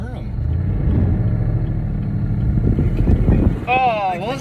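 A truck engine revs hard at full throttle during a brake stand on a street, a steady loud roar that keeps building, with a voice briefly heard near the end.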